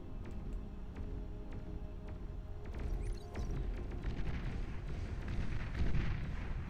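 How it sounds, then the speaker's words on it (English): Long-range plasma cannon in the real-time strategy game Beyond All Reason fires repeatedly, sending a thick stream of booming, rumbling blasts and crackling bursts layered into a dense, continuous barrage. "Long-range plasma cannon"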